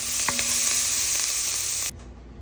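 Finely chopped garlic and onions frying for beef stroganoff, a loud, dense, steady sizzle close up with a couple of faint utensil taps, cutting off sharply near the end.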